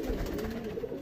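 A fancy black Chinese-type pigeon with feathered feet gives a steady, low cooing hum, near and unbroken, with no voices over it.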